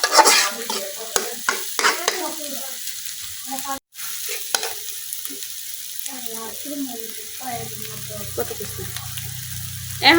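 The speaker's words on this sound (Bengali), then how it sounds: "ডিমগুলা কিন্তু আমি আরো কিছুক্ষণ ভাজা নেম।" A constant sizzle of eggs frying in a wok in a village kitchen, with bursts of spatula scraping and stirring, close by and fairly loud, easing off in the middle.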